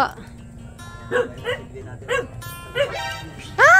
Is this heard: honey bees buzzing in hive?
no